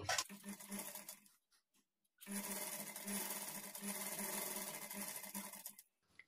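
A sewing machine stitches along the edge of a blouse, running in a fast steady whir for a bit over a second, pausing briefly, then running continuously for about four seconds, close and fairly quiet.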